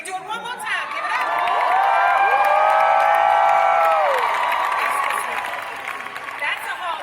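A packed Hall H audience at San Diego Comic-Con roars with sustained cheering, whoops and applause for The Witcher 2019 panel. The loud, dense crowd noise swells and holds for several seconds, then slowly tapers off.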